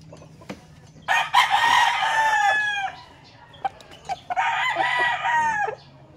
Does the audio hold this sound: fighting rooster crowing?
yes